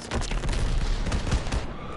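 Sustained gunfire rattles through a Call of Duty WWII battle, a dense, loud barrage of overlapping shots and impacts filling two seconds without pause.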